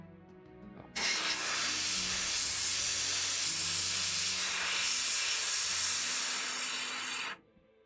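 A spray can or airbrush lays a green coat on a tabletop miniature, a steady close hiss that starts abruptly, runs unbroken for about six seconds, then cuts off.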